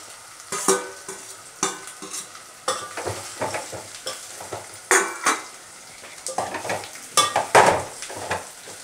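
A spoon stirs and scrapes a paste with curry leaves and taro chunks frying in hot oil in a pan, with irregular bursts of sizzling and clattering utensil knocks against the pan, close up and without talk.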